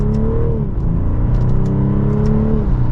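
A 2024 BMW 540i xDrive M Sport accelerating hard, a loud, close engine note climbing steadily in pitch with a deep exhaust rumble and no speech.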